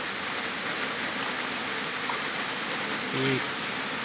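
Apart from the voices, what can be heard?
rain falling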